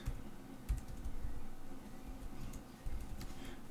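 Someone types on a computer keyboard while writing PHP code, with soft, irregular key clicks in quick bursts, recorded close but quietly, with no talking.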